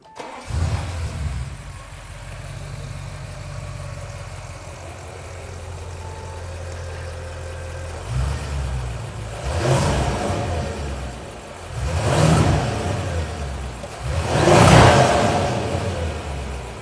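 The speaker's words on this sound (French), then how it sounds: "Ok, donc je vais démarrer la voiture." An Audi RS7 engine, fitted with a modified intake and high- and low-pressure fuel pumps, settles into a steady idle, then revs up three times in rising, swelling bursts before easing back down.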